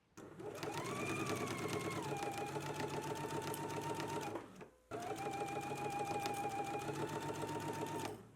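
A sewing machine stitches a sleeve seam on a garment, running in two long steady bursts separated by a brief pause, its rapid mechanical whir close and clear with no talking.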